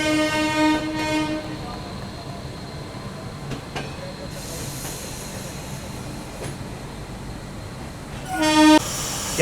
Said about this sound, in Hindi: ठीक ठाक 18 मिनट का हॉल्ट लेने के बाद अपनी ट्रेन निकल चुकी है Pandit Deendayal Upadhyay junction railway station के प्लेटफॉर्म नंबर 1 से